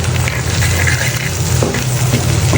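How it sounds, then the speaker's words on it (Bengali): Onion and shrimp sizzle together in a hot pan with turmeric, chili and salt, a dense, continuous crackling fry heard up close without any talk. "পেঁয়াজ আর চিংড়ি মাছটা আমি একসাথে ভেজে নিচ্ছি"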